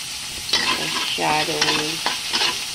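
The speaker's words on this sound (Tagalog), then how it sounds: "Gigisa natin ang ating luya" Ginger sautéing in a pan for sweet and sour tilapia gives a steady close sizzle with stirring scrapes, while brief tonal, voice-like tones rise over the frying now and then.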